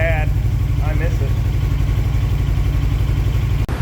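A 2007 Suzuki GS500F motorcycle engine idles loudly and close by in a steady, low, pulsing rumble, with someone talking briefly over it.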